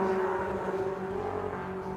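A race car at Donington Park circuit during qualifying, a steady engine whine holding a sustained pitch as it runs over the line, fairly close and continuous, no voices.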